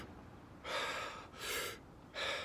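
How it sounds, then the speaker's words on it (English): Three deep, forceful breaths taken in quick succession, close and fairly quiet, as in the Wim Hof breathing method, with no talking over them. "You breathe deeply."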